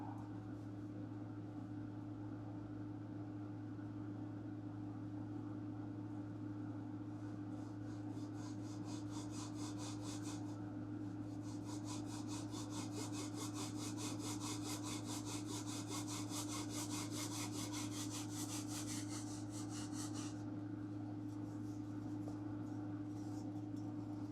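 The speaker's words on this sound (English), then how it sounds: "I can go ahead and sand that to the line, get it all nice and straight" Rhythmic back-and-forth sanding and sawing strokes on wood for the vertical fin and rudder of a Great Planes Ultra Sport 1000 model airplane, steady and close over a constant low electrical hum, getting busier in the middle.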